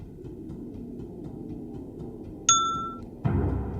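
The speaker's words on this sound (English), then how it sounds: "And the bell goes when both of the levers are facing down." A single bright bell ding rings out in the Myst VR puzzle game over a low mechanical hum, followed shortly by a heavier clunk.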